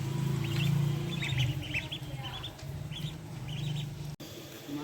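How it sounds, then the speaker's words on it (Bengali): Bathed ducklings peeping and quacking in short high bursts, close by over a steady low background hum. "হাঁসের বাচ্চারে গোসল করাই দিলাম।"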